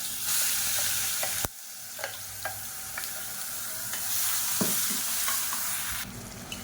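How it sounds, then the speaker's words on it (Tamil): Steady close sizzling of onions sautéing in a frying pan, with periodic scrapes and clinks of a utensil stirring, no talking. "இப்போ இந்த வெங்காயம் கலர் மாதிரி வரணும். அந்தளவுக்கு நல்லா வதக்கி விட்டுக்கலாம்."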